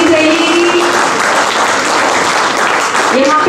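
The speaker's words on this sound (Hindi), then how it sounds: "एक बार जोरदार तालियां।" Loud, sustained audience applause fills a theatre festival hall, dense clapping from a crowd continuing steadily throughout with no pauses.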